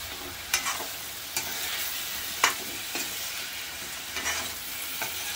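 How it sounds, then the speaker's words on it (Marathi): Potatoes and brinjal are stirred together in a pan of brinjal potato gravy, a soft continuous sizzle under a series of sharp spoon scrapes and knocks against the vessel, close and fairly quiet. "मिक्स करून घेते थोडं"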